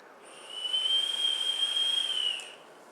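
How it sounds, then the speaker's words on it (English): A thin, steady high-pitched whistle from a vape atomizer with airflow fully open, 0.4 ohm dual coil at 32 watts, rises, holds for about two seconds over a soft airy hiss, then fades away. "My fucking Addy whistles when the air is completely open"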